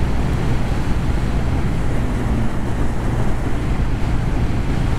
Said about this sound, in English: the wind is coming seemingly straight at me